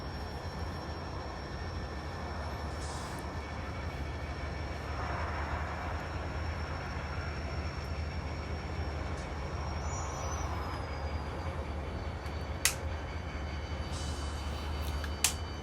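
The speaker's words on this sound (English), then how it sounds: "Let's watch the trains." A steady low mechanical hum of a small N scale model train running continuously on a layout, with a faint whine and occasional light clicks, no voices.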